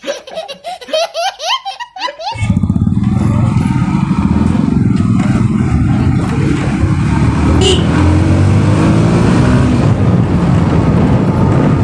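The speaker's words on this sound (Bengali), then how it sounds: "জোরে বাইক চালিয়ে একটা ভালো লাগছে, হাওয়াটা আসছে ভালো।" Hearty laughter comes first, then a motorcycle speeds along a road on the route from Farakka to Malda, heard as a loud, steady engine drone under heavy rushing wind noise.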